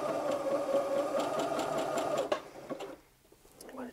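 Sewing machine stitching a zigzag seam on a T-shirt runs in a steady, close mechanical whir for over two seconds, then slows and stops with a few clicks.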